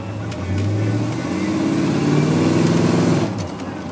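Custom small-block Chevy S10 pickup pulling uphill, its V8 rising in pitch through a strong throaty rev before easing off, loud and close from inside the cab.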